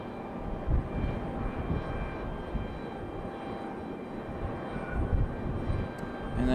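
A Delta airliner departs Raleigh-Durham airport with a faint, distant engine drone and low rumble, steady and soft with occasional swells.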